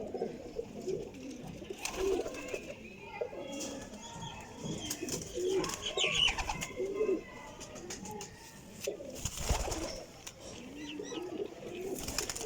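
Sialkoti flying pigeons coo in low repeated throbbing calls, with occasional wing flutters and faint chirps over steady background noise, close by and moderately loud.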